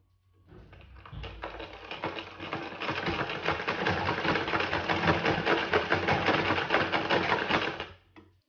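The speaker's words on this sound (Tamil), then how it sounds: "அதுக்கப்புறமா நம்ம இப்போ ஷோல்டர் வந்து ஸ்டிச் பண்ணலாம்" A domestic sewing machine runs continuously for several seconds while stitching the shoulder seam of a blouse, a loud, close, rapid mechanical whirring and clatter that starts and stops cleanly, with no talking.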